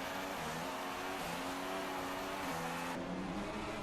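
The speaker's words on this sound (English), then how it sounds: "See a Renault just going past there" A Renault Formula 1 car in F1 2016 at Abu Dhabi goes past with a high, droning engine whine that shifts pitch as it passes, under a constant wash of race noise.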